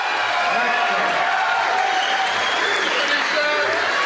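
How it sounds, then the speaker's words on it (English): A bodybuilding show crowd applauds and cheers in a large venue, a dense, sustained roar of clapping with a voice talking over it. "Listen to that crowd"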